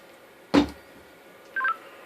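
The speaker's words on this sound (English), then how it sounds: "this sound coming from the CP200d" A Motorola CP200d two-way radio with a sound issue gives a sharp click burst, then a brief electronic beep a second later over faint background hiss.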